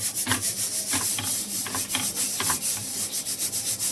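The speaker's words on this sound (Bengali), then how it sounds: "ময়দাটা মেখে নেব" Flour dough kneaded by hand in a home kitchen, a steady rubbing and squishing with repeated soft pressing strokes roughly every half second, close and continuous with no talk.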